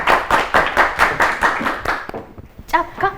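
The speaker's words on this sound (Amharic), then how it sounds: "አጨብጭቡላቸው በደንብ አድርጋችሁ በደንብ" A group of children in a studio audience claps in quick rhythmic bursts, the applause fading out after about two seconds as a voice begins speaking over it.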